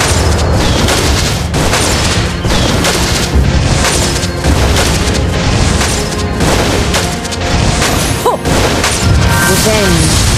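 A turret in the Mobile Legends video game is destroyed with a loud booming explosion. The blast sits inside a dense, continuous wash of game battle effects and music, with the announcer's voice speaking over it.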